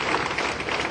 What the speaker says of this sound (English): So if I can get a big round of applause for Kaiser, thank you.